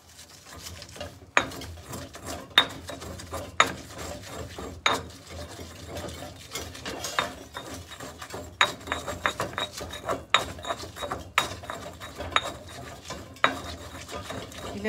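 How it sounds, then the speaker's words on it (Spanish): Garlic and onion are ground in a stone molcajete, giving irregular scraping and grinding strokes punctuated by sharp gritty knocks of stone on stone, close and fairly quiet throughout. "Y le vamos a moler muy bien para que quede todo perfectamente integrado"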